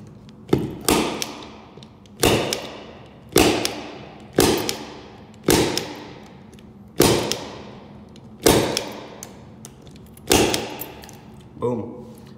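A Milwaukee punch-down tool with a newer blade seats wires into a patch panel, each punch a sharp snapping thud followed by a brief rattle, repeated about nine times at a steady pace, close and clear.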